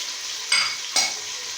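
Golden onions frying in a pan with ginger garlic paste and crushed green chilli, a steady soft sizzle broken by two brief, brighter hissing bursts as the mixture is stirred.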